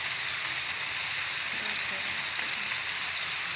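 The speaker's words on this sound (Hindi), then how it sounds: "अब मैं इसमें ऐड कर रही हूँ शिमला मिर्च" Capsicum tossed into a hot frying pan for chicken spaghetti sets off a steady, dense sizzle of frying that holds evenly throughout, close and fairly loud, with no voices.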